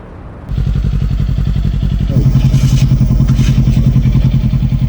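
A motorcycle engine idles loudly and close by with a steady, throbbing low rumble, its pitch shifting briefly partway through before settling into a rougher, louder idle that continues to the end.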